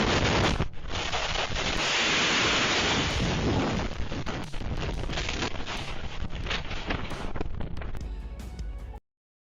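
Strong wind roars and buffets steadily, with loud gusts rising and falling throughout before cutting off abruptly.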